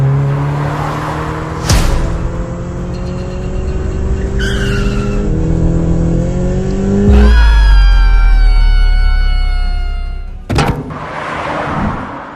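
A car races along at speed with its tyres skidding and squealing, the engine surging and the screech rising loud and close, with sharp bangs breaking in twice.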